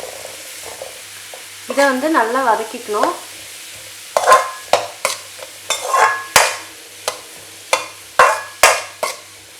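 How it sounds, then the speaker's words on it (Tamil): Onion, green chili and curry leaves sautéing in hot oil in a pan, with a loud close sizzle and a spoon stirring and scraping in a repeated rhythm, while someone briefly speaks near the start. "இதில் வெங்காயம், பச்சை மிளகாய், அப்புறம் கருவேப்பிலை, இதை வந்து நல்லா வதக்கிக்கணும்."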